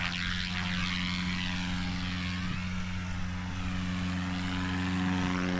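A Cessna 172 converted to a tail dragger runs its propeller engine at a steady loud drone during takeoff at an EAA event, the tone holding constant with a slight wavering whine throughout.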